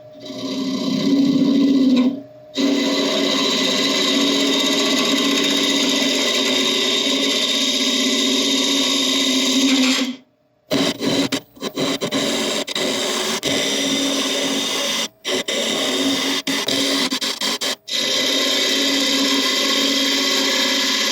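A wood lathe spinning a burl while a carbide tool cuts it, a loud steady motor hum with rough scraping and chattering, broken by several abrupt stops and restarts, close and with no talk.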